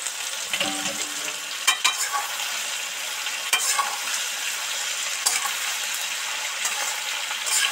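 Boiled soybeans stir-fried with deep-fried potato and tomato in a pan, a continuous dense sizzle with a few scraping clacks of stirring.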